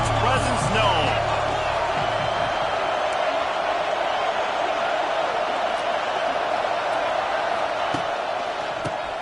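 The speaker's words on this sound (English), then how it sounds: "This crowd ready to make its presence known." Crowd noise fills an indoor basketball arena at a game, a steady loud roar of spectators with occasional sharp thumps from the court, while a commentator talks over it throughout.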